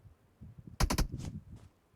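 Gunfire in the PUBG Mobile video game: a quick burst of three sharp shots followed by two fainter reports, over a low background rumble.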